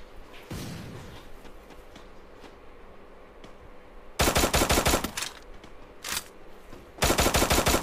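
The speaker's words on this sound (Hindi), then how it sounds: "उसके पास शॉटगन है लगता है" Loud bursts of shotgun gunfire from the video game Free Fire MAX, with a long rapid volley, a shorter burst and single blasts, then another long volley after quieter game ambience.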